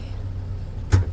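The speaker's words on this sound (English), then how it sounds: "There's the hood pop" A 2011 Nissan Frontier's hood release pops open with a single short, sharp thunk near the end of the clip, heard over a steady low idle-like hum.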